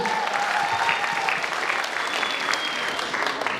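Audience at a KVN comedy final applauding the teams, steady dense clapping from a large hall held at an even level from start to finish.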